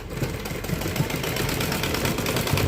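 A sewing machine stitching a dhoti salwar gives a steady mechanical whir with rapid, regular ticking, running continuously and fairly close.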